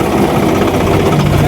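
A Swaraj 735 tractor engine runs steadily and loudly up close, with a dense, continuous low rumble and vibration and no pauses.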